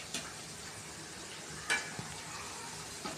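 Masala vada frying in oil gives a soft, continuous sizzle. A few sharp clinks and scrapes from turning the fritters break in briefly, and no one speaks.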